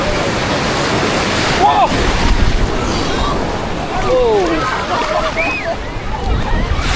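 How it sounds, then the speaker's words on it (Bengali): Rough ocean surf at Puri beach roars as a constant broadband wash, with distant voices and faint whistles over the crashing waves. "এরকম ঢেউ সমুদ্রে, এরকম ঢেউ উত্তাল আমি দেখিনি"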